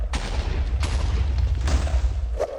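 TNT blocks set off by a flame bow in a Nether mining area in Minecraft, a rapid series of loud, rumbling blasts going off one after another with no pauses, booming steadily throughout.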